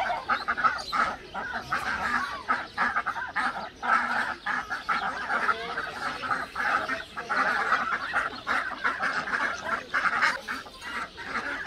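Ducks at a zoo in Nicosia quack and honk continuously in a dense, nearby chorus of overlapping calls with steady rhythmic bursts, no talking.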